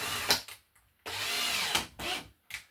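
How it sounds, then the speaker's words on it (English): A power drill bores a hole while an emergency light is being installed and rewired, running in a few short bursts of roughly half a second to a second each, with quiet gaps between them. "I'll just cut another hole and drill it back here"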